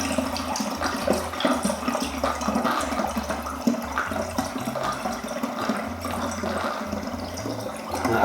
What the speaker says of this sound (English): Now we're just going to add a bit more apple juice.